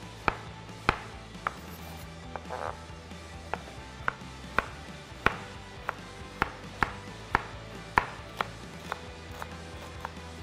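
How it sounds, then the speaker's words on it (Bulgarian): Zucchini, carrot and green pepper are cut into small pieces on a board. A knife hits it in sharp, fairly regular chops, close and distinct, about two a second, with small pauses. "да вземем тиквичка, моркова и зелена чушка и да ги нарязаме на малки парче"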